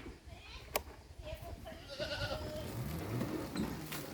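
Goats bleat faintly amid farmyard noise during goat breeding, with voices murmuring in the background and a sharp click early on.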